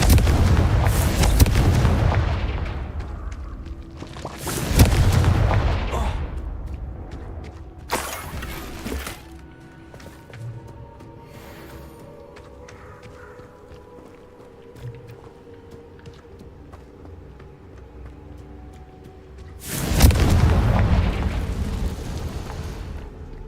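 Confringo blasting-spell explosions in the modded video game Hogwarts Legacy: four booming blasts, three close together at the start and one much later, each a heavy burst trailing into rumble, with quiet crackling between them.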